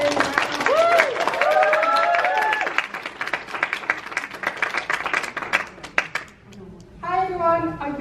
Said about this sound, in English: So, without further ado, here's Leanne, so a big round of applause.